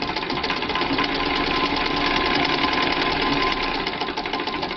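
A vintage Singer Lotus sewing machine stitches a seam, its needle mechanism chattering in a fast, even, continuous rhythm close up, with no voices over it.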